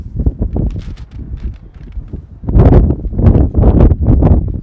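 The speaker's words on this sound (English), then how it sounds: "wind has really picked up so far" Gusty wind roars across the microphone at an outdoor baseball game, buffeting harder in the second half with broad rumbling surges, no voices present.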